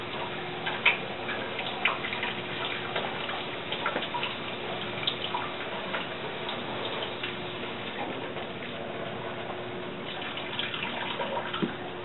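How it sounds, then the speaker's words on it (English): Water running steadily from a tap over an etched metal plate during rinsing, a continuous soft splashing stream with occasional small clicks and drips, fairly close and alone. "I'm just going to rinse it one more time, make sure there's no acid left on there anywhere."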